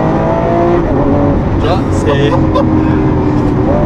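A Lamborghini Aventador Ultimae V12 roars loudly and steadily from on board, with rising engine tones and brief breaks as gears shift, while someone talks over it.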